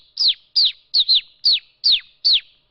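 A voice imitates a house sparrow with seven quick, bright chirps in an even rhythm, each a short descending tweet, close and clear against silence.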